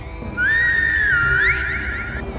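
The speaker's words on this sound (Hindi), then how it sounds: "पीछे से फिर वही सीटी सुनाई दी, इस बार पहले से ज्यादा पास।" An eerie, wavering whistle from a Hindi horror story rises and bends in pitch for about two seconds, sounding close and prominent over a low, murky background.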